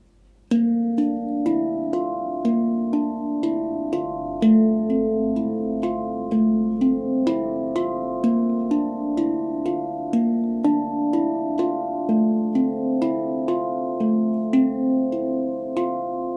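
A handpan rocks back and forth between two chords, each struck note ringing out with warm, bell-like sustain at a gentle, even pace.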